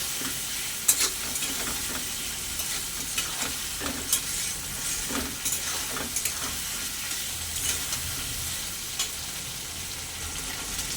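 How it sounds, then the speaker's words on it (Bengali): Potatoes frying with ginger garlic paste in oil, stirred with a utensil, producing a continuous loud sizzle broken by regular scraping strokes against the pan. "আদা রসুন বাটা আর আলুটা আরেকটু ভালো করে ভাজা ভাজা করে নেব"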